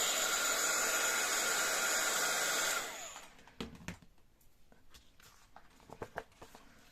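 A hair dryer blows loudly and steadily over inkjet-printed tissue paper to dry the ink. It cuts off after about three seconds, leaving faint scattered rustles and light taps.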